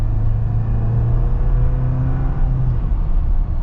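A 2022 Jeep Wrangler Rubicon two-door with the 2.0 engine pulls hard, its steady, loud low engine rumble and whir holding close throughout the short stretch of acceleration, with no talking.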